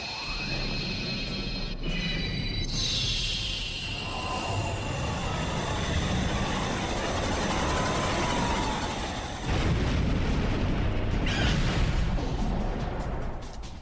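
Nova casts the Violent Wind spell attack in the video game Legend of Legaia, a long roaring, whooshing gust that rises into sweeping swirls and ends in a louder rushing surge, all loud and steady with no voices.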